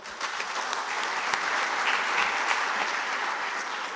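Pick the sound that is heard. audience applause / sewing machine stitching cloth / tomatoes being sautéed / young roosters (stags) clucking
audience applause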